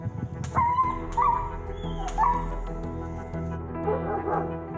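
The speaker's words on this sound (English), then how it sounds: "It's really upsetting to witness and hear animals in distress, and this animal clearly is in distress." A distressed dog named Zeus whimpers and yelps in several high, wavering cries, with short barks among them, set against a low steady background hum.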